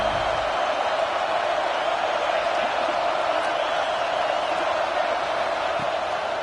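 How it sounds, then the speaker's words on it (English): A home football crowd at a Texas versus LSU game roars on third down as the defense tries to get off the field, a loud, steady wash of cheering that holds throughout. "Here comes this home crowd as the defense tries to get off the field on 3rd down."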